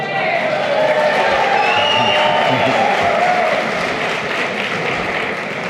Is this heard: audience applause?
yes